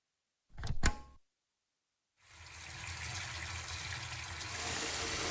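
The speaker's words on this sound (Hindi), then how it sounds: "ये बाल्टी भर गई है, नल तो बंद करो। कितना पानी बह रहा है।" A water tap runs steadily into a bucket, a continuous broadband gush that swells slightly as it fills, preceded by a brief thud or clunk and a moment of silence.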